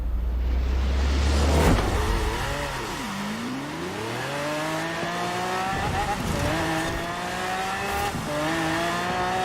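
A Chevelle Super Sport races in Forza Horizon 4, its engine loud and close, revving up and down through repeated gear changes with rising and falling pitch sweeps and a brief tire squeal, with no talk.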